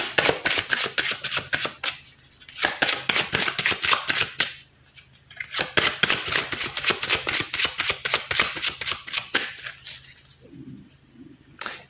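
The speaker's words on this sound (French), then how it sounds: "je vais tirer maintenant 3 cartes pour avoir des conseils dans chaque domaine" Tarot cards being shuffled and drawn by hand, a close, loud rapid riffling that runs in long bursts broken by short pauses, with soft handling sounds between, and no talking.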